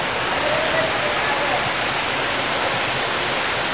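Steady, loud rush of Palsahingin Falls in Cavite filling the whole clip, a constant broadband roar with no breaks.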